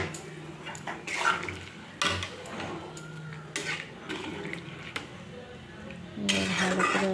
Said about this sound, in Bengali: এবার ভালো করে আমি জল দিয়ে ভালো করে মিশিয়ে নেড়ে চেড়ে দিলাম।